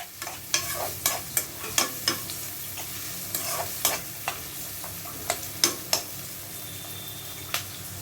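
Onions frying in a pan for crab gravy give a low sizzle, while a spoon stirring and scraping against the pan makes sharp clicks at an irregular pace, close by with no voices.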